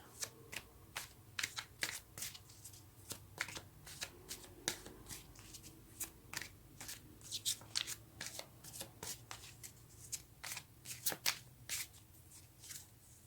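Tarot cards riffled and shuffled by hand in a quiet room, a long run of quick, close flapping bursts with brief pauses between them.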